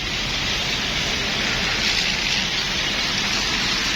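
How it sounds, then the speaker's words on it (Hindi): Very heavy rain pours down steadily in Islamabad, a loud, dense, continuous hiss with no breaks and no voices. "बहुत ही तेज़ बारिश।"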